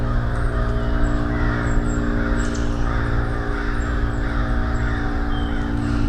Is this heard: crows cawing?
yes